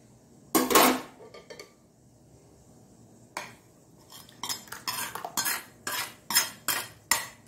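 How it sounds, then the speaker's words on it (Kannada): A spoon stirs masala into onion chutney in a metal bowl, giving repeated scraping clinks in quick bursts, close and clear with short pauses between strokes. "ಎಲ್ಲ ಹಾಕೊಂಡು ಚೆನ್ನಾಗಿ ಕಲರಿಸೋಣ ನೋಡಿ"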